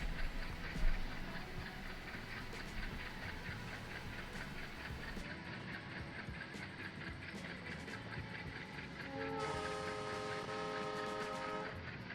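A diesel locomotive in a video game, a single RS11 pulling about 350 tons, rumbles steadily with harmonic engine drone, faint clicking, and a sustained horn-like tonal blast near the end.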